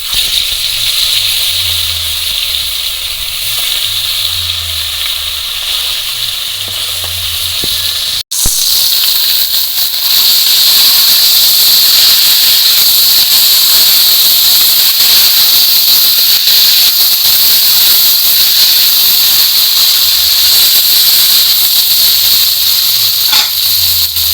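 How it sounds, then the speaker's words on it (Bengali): Tilapia fish frying in hot oil in a kadai, a loud, steady hiss of sputtering oil that runs unbroken for the whole stretch, with a brief dip near the start. "এবার মাছগুলো দিয়ে দেবো"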